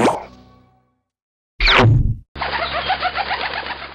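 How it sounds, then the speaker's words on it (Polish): A cartoon vampire bat giving out the cooing of a flock of pigeons, a sudden loud cartoon burst followed by a steady run of bubbling coos, close and clear with no talking. "tylko ta potrafi zmienić się w nietoperza, który wydaje głos gromady gołębi"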